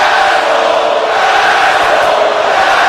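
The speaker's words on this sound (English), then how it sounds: "this crowd is relentlessly booing these guys" Wrestling event crowd booing, a loud, unbroken roar of massed voices sustained throughout, filling the arena.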